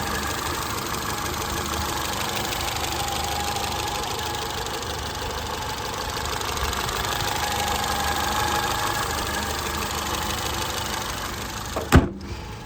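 Peugeot 207 hatchback from 2011 with just over 100,000 miles, engine idling steadily at close range with a faint whirring note over the rumble, and a sharp click near the end.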